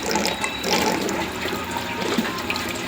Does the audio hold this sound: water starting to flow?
yes